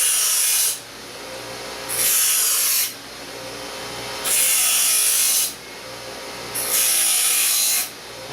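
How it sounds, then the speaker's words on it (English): A grinding wheel rough-grinds the sharp edges off steel in four loud, bright passes of about a second each. Between the passes the motor hums more quietly. "We'll just make some real rough cut grinds real quick. That takes the edge, sharp edge off."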